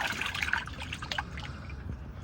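Water and fish pour from a bucket into an abandoned outdoor pond, a continuous splashing trickle that stays fairly close and steady for a couple of seconds with no talking.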